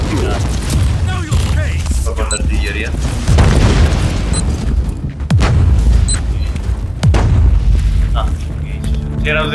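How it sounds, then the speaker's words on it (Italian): Artillery explosions in the Warhammer 40k: Inquisitor video game boom heavily and repeatedly, loud and deep, over continuous combat noise. "Proprio l'artiglieria."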